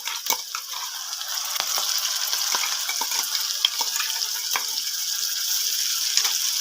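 Onions with green chili paste frying in a pan, a steady bright sizzle with scattered scraping stir clicks, close and continuous with no talking.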